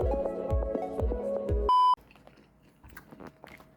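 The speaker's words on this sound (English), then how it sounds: "That's the sound of me eating." Someone bites and chews a high protein taco chicken bowl with sriracha spicy mayo, with crunchy rhythmic chewing up close, then a short beep, then softer chewing and mouth sounds.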